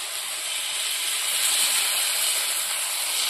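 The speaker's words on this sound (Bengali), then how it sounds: "এখন আমি ঝোলের জন্য একটু জল দেবো।" Water poured into a hot frying pan after frying rohu fish for curry gravy, giving a loud, continuous steamy hiss and sizzle that holds steady, close up, with no talk.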